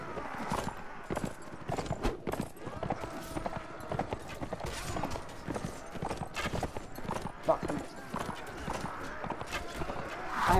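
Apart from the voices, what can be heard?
horse hoofbeats while riding in video game Mount & Blade: Warband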